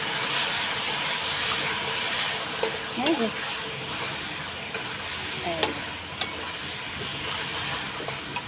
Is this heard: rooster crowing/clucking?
no